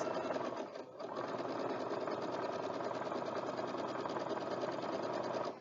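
A home sewing machine runs steadily after being started with its foot pedal, a close, continuous mechanical whir with a fast regular stitching rhythm that barely dips near the start.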